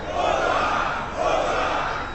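A large crowd at an APC campaign rally in Anambra, Nigeria, roars in a dense, loud, sustained cheer that swells twice in quick succession.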